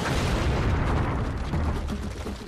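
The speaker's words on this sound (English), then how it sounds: "the largest cannon that had ever been built was put to devastating effect" A giant siege cannon firing at the walls of Constantinople in 1453: a heavy, sustained booming roar with rumbling low-end blast energy that holds steady and slowly fades.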